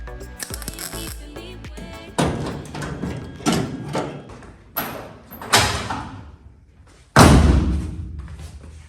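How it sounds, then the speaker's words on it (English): A VW bus sliding door, test-fitted during a restoration, rolls along its track and slams shut several times, each closing a sharp, close thud followed by a rattle, with the final slam the loudest. "we've got the doors test fit and the gaps seem to be good. I don't know, I have nothing to compare it to, but the door slides."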